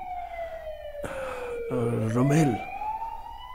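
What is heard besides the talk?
ambulance siren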